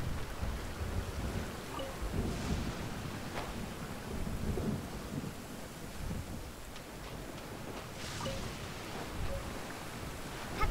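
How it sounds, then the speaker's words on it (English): Steady rain falling in Genshin Impact's Sumeru region with rolling thunder rumbling through it, a continuous wash of rain sound with a few brief cracks, and no talking. "it's raining."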